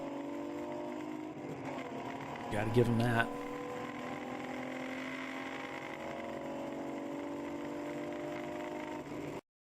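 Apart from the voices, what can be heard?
endurance race car engine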